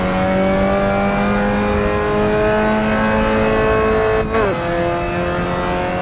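Mazda MX5 race car in a sim racing game, engine revving steadily with rising harmonic pitch, then a sharp dip and recovery as the driver flat shifts, loud and continuous with no talk.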